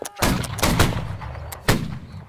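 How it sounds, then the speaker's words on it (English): Massed musket volleys ring out in Holdfast: Nations At War, a linebattle of Napoleonic-era infantry: a sharp, loud crack followed by a few more bursts and a final volley, each trailing into a rumbling echo. "Shoot them while they're retreating. Fire."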